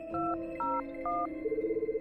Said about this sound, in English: I pick up the phone again and call a number.